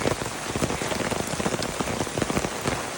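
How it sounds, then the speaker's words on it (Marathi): Heavy rain pours down in Kasarde village, a dense, constant hiss of drops pattering on surfaces, loud and close with no voices. "सकाळपासून खूपच पाऊस"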